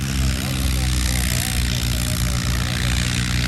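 Tractor engine revving at a tractor fair in Mirpur, Azad Kashmir, a loud steady low throbbing drone that holds throughout, with people talking over it.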